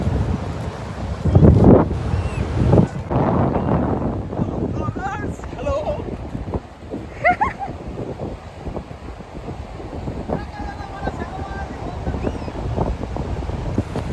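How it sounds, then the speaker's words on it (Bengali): Sea waves roll onto the beach at Mandarmani under strong gusting wind that buffets the microphone, a continuous rushing roar with surging swells, while voices are faintly heard nearby. "ব্যাকগ্রাউন্ডে শুধু মানে সমুদ্রের ঢেউয়ের আওয়াজগুলো শোনো"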